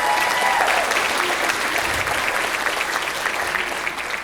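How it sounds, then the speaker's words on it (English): A high school concert audience claps for the wind ensemble of a spring band concert, a sustained, even roar of applause from a large crowd that holds steady throughout with no talk over it. "So give them a round of applause for that."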